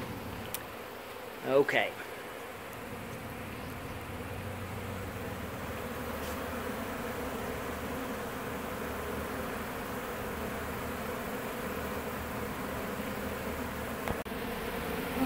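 Honeybees at a hive during a bee removal in Lakeland fill the scene with a steady, dense buzzing throughout, near and continuous, with a brief louder burst early on and a single short spoken word.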